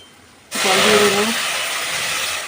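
Water poured into hot caramel for pudding sets off a sudden loud, close hiss that bursts in after a quiet start and then sizzles steadily, easing off only slightly.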